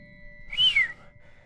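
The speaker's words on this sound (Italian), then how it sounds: "Donovan fischiò." A man whistles once, a brief two-note whistle rising then falling, clear and close over a faint steady hum in a quiet room.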